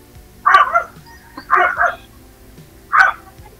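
A dog barks three times in short, loud bursts, the first two close together and the third after a pause, heard nearby with no talking over it.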